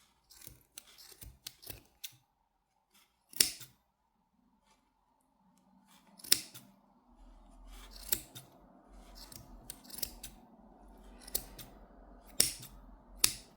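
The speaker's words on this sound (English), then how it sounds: "And now take a scissor and start to cut." Scissors snip through a bundle of yarn to cut loops for a crochet pom-pom, giving sharp, close, irregular clicks and cuts with quiet rustling handling in between.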